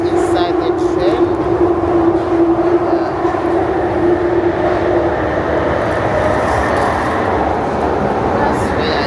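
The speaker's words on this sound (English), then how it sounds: "So I'm inside the train now." Inside a moving London train heading home, a steady rumbling roll carries on throughout with a low hum, continuous and fairly loud, while a voice talks over it.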